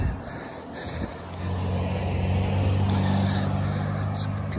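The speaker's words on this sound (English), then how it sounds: "Some people driving by in their minivan with flowers" A minivan drives by on a road in the hills of Madeira, its engine swelling into a loud, close rumble that holds for several seconds, with wind noise throughout.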